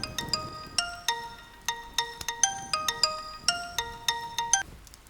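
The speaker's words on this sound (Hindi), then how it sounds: "फोन आया है।" A phone ringtone plays a bright, repeating melodic chime pattern, loud and close, cycling several times before stopping.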